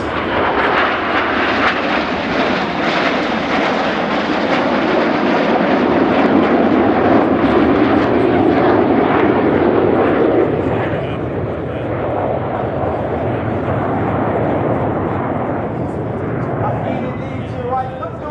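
Royal Air Force Red Arrows jets roar continuously overhead during a flying display at RIAT 2024, a loud, sustained engine rumble that swells and then slowly eases, with a commentator's voice running over it.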